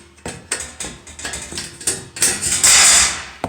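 A metal stud being cut up close makes a rhythmic run of sharp, crunching snips and clicks, a dozen or so strokes, ending in a louder hissing scrape.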